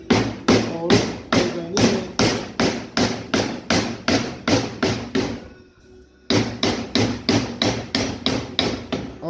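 A hydraulic pump bearing is knocked out with a piece of wood, giving a steady run of loud, evenly spaced thuds that pause briefly and then resume at the same pace.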